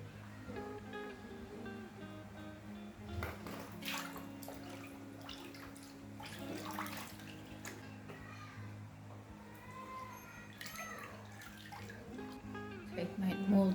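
A papermaking mold and deckle dipped into a vat of water and turmeric-dyed recycled paper pulp, giving soft sloshing and dripping splashes over steady low background hum.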